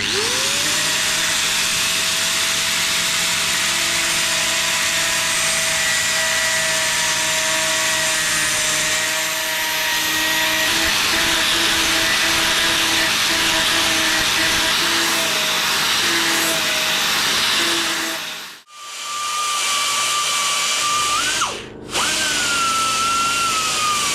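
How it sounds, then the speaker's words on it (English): An angle grinder works steel footrest brackets for a Yamaha 350LC, giving a steady, loud whine for most of the run, then cutting out twice in quick succession before spinning back up. "What I'll do is take the majority of it back with the angle grinder"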